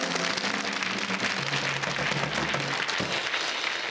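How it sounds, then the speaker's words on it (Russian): Sustained applause from a studio audience at a New Year's Russian Lotto draw, a dense steady clatter of many hands over a low tonal hum. "Мы аплодируем всем победителям."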